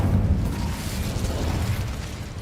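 An Incendio fire spell bursts in Hogwarts Legacy, a dense, rumbling whoosh of flame that stays loud and steady through its short length with no talk over it.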